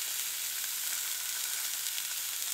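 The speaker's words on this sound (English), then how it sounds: "And now you're gonna hear the sizzle." Steady, loud sizzling of ground beef on a hot grill, a continuous crackling hiss with no voices.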